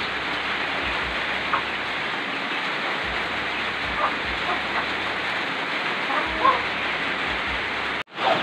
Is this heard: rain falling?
yes